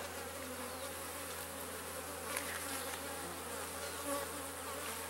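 Honey bees buzz steadily around an open, healthy hive during an inspection, a dense continuous drone close to the listener with occasional louder passes near the ear.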